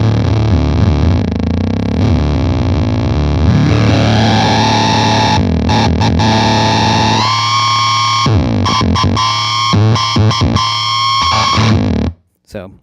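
Electric guitar feedback screams through an Octa-Tron effects pedal, a sustained distorted drone that swells and shifts pitch as the guitar's volume knob is turned, loud and continuous with brief dropouts before cutting off near the end.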